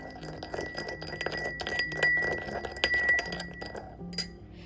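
Stir-fry sauce of soy sauce, vegan oyster sauce, white pepper and sugar mixed briskly in a glass bowl, giving a steady run of close, bright clinks and scraping taps with no talking.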